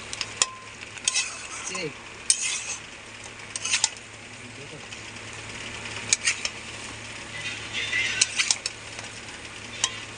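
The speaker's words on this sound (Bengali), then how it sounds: "আর একটু কষে নেবো, তেল ছাড়া অবধি আমি কষে নেবো।" Chicken with raw potatoes for a chicken kosha being stirred and fried in a pot until the oil separates: a low constant sizzle broken by sharp metallic scrapes and clinks of the spoon against the pot, close by.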